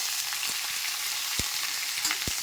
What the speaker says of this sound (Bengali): দেখো গরম তেলে একটু ভেজে নেবো